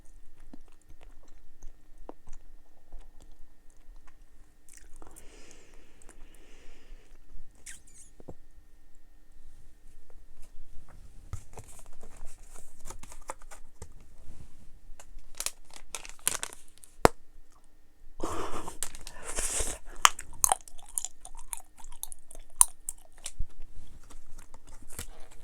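Dubble Bubble watermelon and strawberry bubble gum chewed close to the microphone, with sparse wet clicks and smacks spread over the stretch and a denser burst of sticky, crinkly mouth sounds near the later part.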